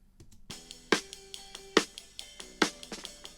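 Snare drum recorded in a rehearsal studio with a strong treble and high-shelf boost, bright hits with wire fizz struck at a steady rhythm, about six close crisp cracks with lighter ghost notes between them.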